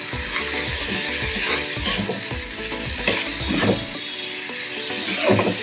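Mustard paste frying in oil sizzles loudly as a little water goes in, a continuous close hiss broken by stirring scrapes and bubbling bursts, with no talking.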